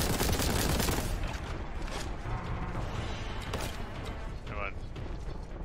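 Gunfire from the Warhammer 40k Boltgun video game, a dense, loud barrage of rapid shots and mechanical clatter filling the whole stretch, with a player's voice talking over it.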